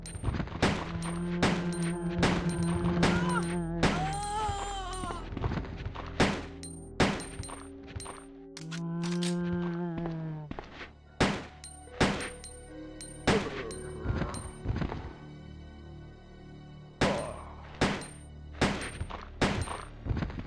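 Gunfire from Claire's handgun in the 1998 Resident Evil 2 sounds as a long series of sharp, evenly spaced shots over droning, tonal background music, with a few thuds between them.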